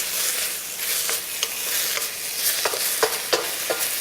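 Broccoli beef sizzles in a hot wok as it is tossed constantly, a loud steady frying hiss broken by sharp scraping and clattering strokes of the spatula, close up with no voices.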